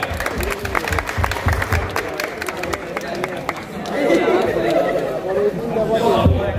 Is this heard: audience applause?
yes